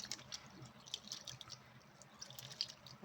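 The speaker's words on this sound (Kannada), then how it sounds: "ಇದನ್ನು ಹಾಗೆ ನೀರು ಹಾಕ್ಬಿಟ್ಟು ಚೆನ್ನಾಗಿ ತೊಳಿಬೇಕು" Soaked rice for idli batter is rinsed by hand in water, giving faint, irregular splashes and drips as grains are scrubbed and swirled, with no voices.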